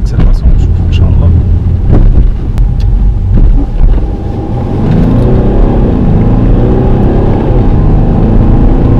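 A Mercedes E350 W207 coupe with a seven-speed gearbox accelerating hard, its engine note rising through a gear change amid loud wind buffeting, with someone talking over it.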